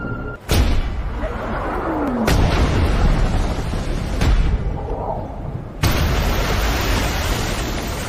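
Explosions boom through a war film scene set on an island, several sharp blasts spaced a second or two apart over a constant loud roaring rumble, with no voices.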